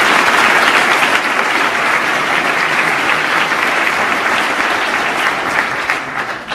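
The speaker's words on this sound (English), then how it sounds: "So a huge round of applause to" A lecture audience at UT Austin breaks into loud, sustained applause from a packed crowd. The clapping holds at a steady roar for the whole stretch and eases only slightly near the end.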